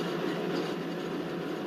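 Twin WDM 3A diesel locomotives hauling a train in an Indian Railways simulator rumble steadily and close, a continuous broad drone with faint rail noise and no talk.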